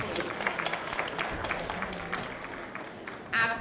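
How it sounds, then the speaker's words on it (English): Audience applause for grandparents at a school holiday program, a steady wash of clapping from a crowd lasting a few seconds, with faint voices mixed in. "Let's give them a great round of applause, please."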